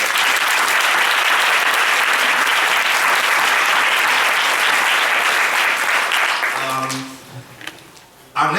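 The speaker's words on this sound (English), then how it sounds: "a round of applause." A large audience at a Harlem community event gives a loud, sustained round of applause that holds steady for several seconds, then dies away as a voice begins speaking near the end.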